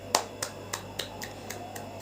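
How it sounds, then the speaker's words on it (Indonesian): Hand claps from a class, eight sharp, evenly spaced claps in a steady rhythm that fade slightly toward the end, close and distinct over a quiet background. "Tepuk tangan semuanya."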